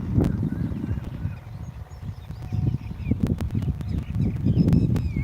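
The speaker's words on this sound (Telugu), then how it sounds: "మంచి పక్షులు మంచి మంచి సౌండ్లు చేస్తాయి" Outdoor birds call now and then, a mix of short honking cries and chirps over a low rumbling background, moderately distant.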